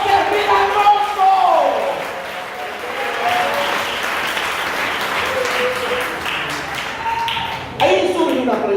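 A church congregation applauds steadily, a dense wash of clapping that fills the whole stretch at moderate loudness, with a louder burst near the end and some voices mixed in.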